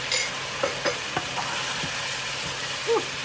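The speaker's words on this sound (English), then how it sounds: "I'm gonna go ahead and get me some garlic going on there" Garlic cloves fry in a pan with a steady, loud sizzle, broken by a few soft stirring scrapes and taps.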